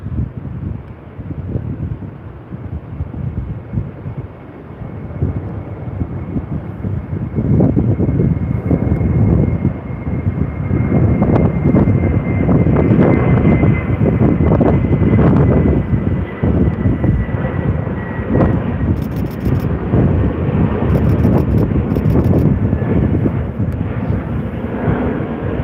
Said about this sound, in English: There goes our A330.